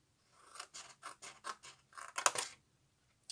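Scissors cut paper at a bevel for a gift-box tutorial in a series of short, close snips with a rhythmic scraping quality, roughly ten cuts in a row, with no voices.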